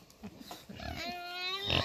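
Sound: pigs grunting on a farm

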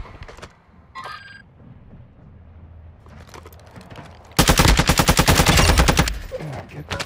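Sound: gunfire in a video game

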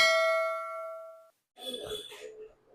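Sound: notification bell sound effect

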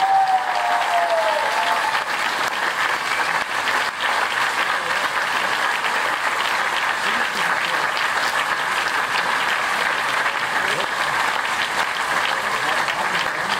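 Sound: applause for the SO36 team

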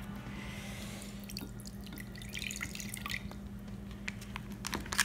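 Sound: draining packing liquid from tofu package

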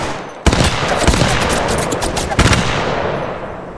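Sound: gunfire from the video game Apex Legends Mobile

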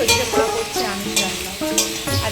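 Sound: frying and stirring a non-vegetarian curry in a pan

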